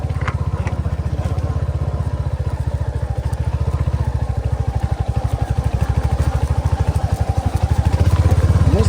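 A motorcycle rides through a shallow river where there is no bridge, its engine chugging in a steady, rapid pulse up close, with faint clattering and water noise behind it.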